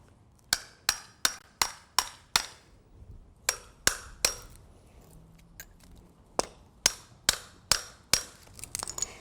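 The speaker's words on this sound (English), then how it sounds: "take a chisel and make sure that the wood is level with the lowest piece of concrete on your driveway" Hammer driving a chisel into wood in a concrete driveway expansion joint outdoors, a close, loud series of sharp regular strikes in quick bursts, with short pauses between groups.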